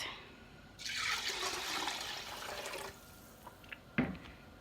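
Meat broth pours into a pot of rice in a gushing stream for about two seconds, followed by a few light drips and a small splash.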